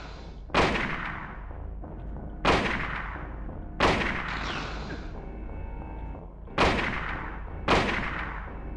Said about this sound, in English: So we use the hunting rifle.